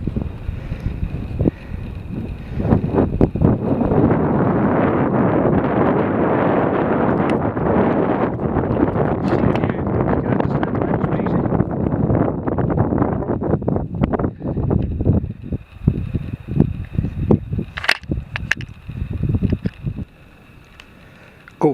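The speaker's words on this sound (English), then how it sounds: "Bit breezy." Strong wind gusts roar steadily across the microphone on a rocky mountain summit ridge on the route from Sannox to Goatfell, loud and buffeting, easing slightly toward the end.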